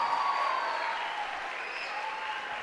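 A church congregation applauds in praise, a sustained wash of clapping heard from across the room, with a voice speaking faintly over it.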